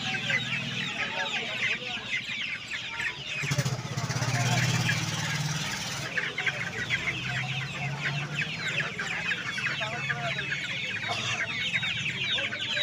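Sonali chicken chicks at a busy poultry market cluck and chirp continuously, dense and close, with market chatter and people talking throughout and a louder low rumble partway through.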